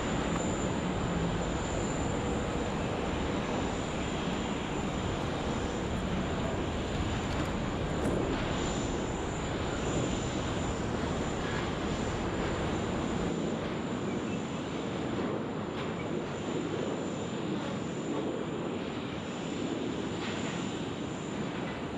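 China Southern airliner powering up for takeoff on runway 34 left at Sydney Airport, a steady broad engine roar heard from a distance that holds level throughout and eases slightly near the end.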